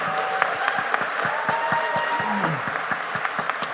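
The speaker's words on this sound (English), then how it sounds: "Once again, a round of applause for our newest citizens." A crowd at a naturalization ceremony claps in steady applause, with individual claps distinct and close, while faint voices and a brief whoop rise over it.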